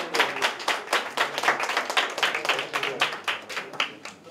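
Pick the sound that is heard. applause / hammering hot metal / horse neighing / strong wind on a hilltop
applause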